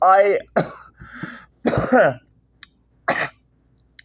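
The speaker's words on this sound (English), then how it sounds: "That was the reason why I was coughing." A person with food stuck in their throat coughs and clears their throat in several rough, close bursts separated by short pauses.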